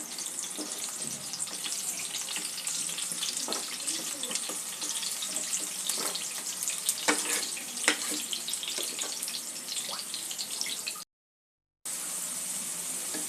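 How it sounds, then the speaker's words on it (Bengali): Potatoes sizzle lightly in hot oil while being fried for a Bengali fish curry, a close, continuous crackling hiss with small pops, broken by a brief moment of silence near the end. "হালকা করে ভেজে নেব আলুগুলো।"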